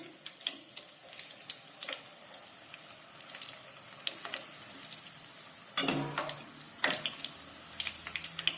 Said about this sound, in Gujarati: તો ગરમ તેલમાં આપણા મરચાં પણ તળાઈ ગયા છે